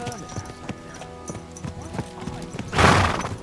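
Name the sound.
horse hooves and whinny in Kingdom Come Deliverance 2 video game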